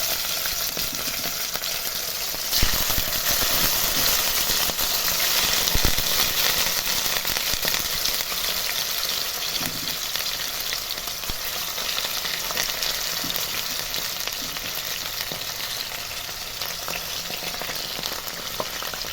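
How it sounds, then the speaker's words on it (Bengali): Rohu fish frying in hot mustard oil in a kadai, a loud, dense, steady sizzle with crackling pops running throughout, no talking. "তেল গরম হয়ে গেছে, এবার আমি তেলের মধ্যে মাছগুলোকে ছেড়ে দেব"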